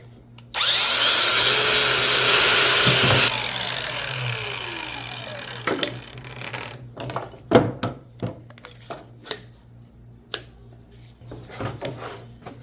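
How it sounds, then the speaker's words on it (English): An angle grinder with a flat disc grinds down a pipe fitting for a DIY fish pond fountain aerator: a loud, high whine for about three seconds, then the motor spins down and sharp metallic clanks and handling knocks follow. "I got my other grinder with a flat disc."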